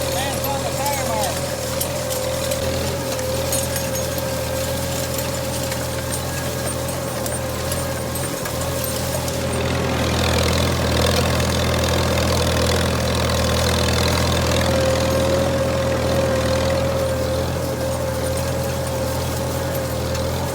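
An old Farmall tractor engine runs at a steady idle-like drone with a low rumble and a sustained hum, continuous throughout, close by, with a person talking over it.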